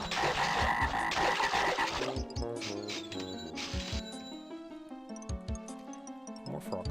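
Frogs croak loudly in the H.U.R.L. video game, with a dense burst of rasping calls at first, then scattered, sharper croaks and clicks that thin out over the rest of the clip.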